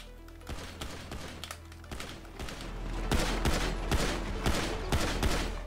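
Rapid bursts of pistol gunfire in GTA Online crack out in quick succession over a low, steady game rumble, loud and close, intensifying toward the end.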